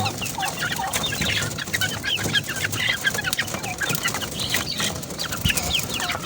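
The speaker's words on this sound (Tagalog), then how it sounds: "Ganyan po kalalakas kumain yung ating mga sisiw." Month-old chicks cluck and peep continuously while eating feed, a busy close-up chorus of many small birds with occasional wing flutters.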